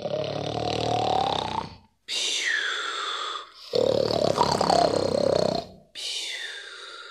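A narrator's voice imitates a wolf snoring, with four long drawn-out rasping snores separated by brief pauses, close and loud with no other sound around them.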